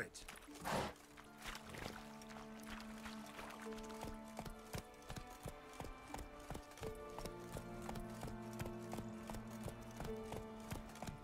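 A horse gallops in The Witcher 3: Wild Hunt, a steady rhythmic clip-clop of hooves running continuously under in-game music with tonal layers.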